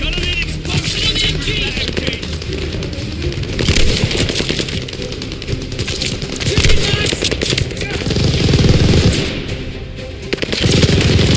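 Sustained machine gun bursts from a tower gunner in the Call of Duty Vanguard campaign, loud rapid rattling fire with explosive peaks mixed with other battlefield gunfire, continuing without pause.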